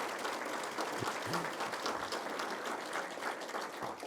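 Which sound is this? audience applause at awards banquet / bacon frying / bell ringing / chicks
audience applause at awards banquet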